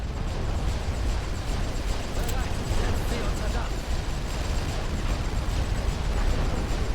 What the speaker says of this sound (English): they've got artillery coming in